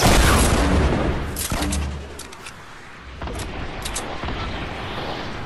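Fortnite Battle Royale gunfire cracks out over a steady game rumble: a loud burst at the start, then scattered sharp single shots, some close and some more distant, with no voices.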